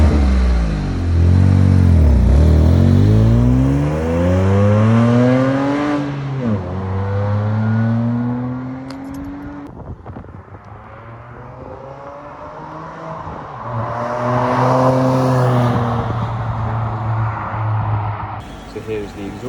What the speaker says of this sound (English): Here's a quick run of the car with the blowing exhaust.